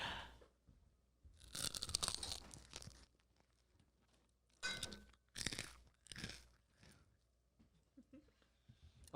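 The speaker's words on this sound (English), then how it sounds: "here's the Modern crunch" Crust of a Modern Pizza New Haven apizza bitten and chewed up close, giving several loud, crackling crunches in separate bursts with quiet gaps between them.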